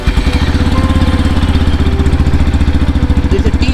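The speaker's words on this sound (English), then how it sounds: "So now, let's hear the exhaust note." Yamaha FZ-X motorcycle exhaust running steadily nearby, a loud, continuous, deep, bassy, pulsing engine note with no change in revs.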